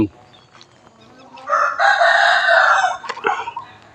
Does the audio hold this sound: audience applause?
no